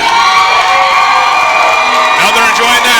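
Loud wrestling arena crowd cheering and shouting continuously, a dense roar of many voices with whoops rising toward the end.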